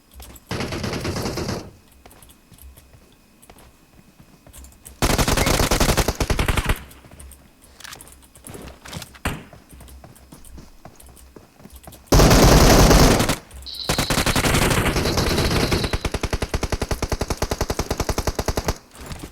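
Machine-gun fire in the mobile battle-royale game PUBG Mobile: loud, rapid automatic bursts erupt in several separate volleys, with quieter gaps between them and no talk over the shots.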